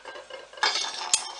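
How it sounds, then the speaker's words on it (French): Metal muffin moulds, lightly oiled with olive oil, clatter and clink against each other in a home kitchen, with a louder rattling burst midway and a sharp clank near the end, close and fairly quiet. "Ils sont en métal, alors ça fait du bruit."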